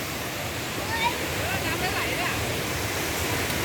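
Pang Sawan waterfall in Uthai Thani gives a steady, broad rushing roar of falling water, close and loud, continuous throughout with no break.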